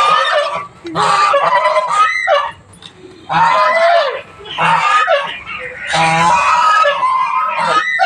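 Geese feeding on fenugreek leaves honk loudly and repeatedly at close range in several bursts with short pauses, with a voice talking faintly in between.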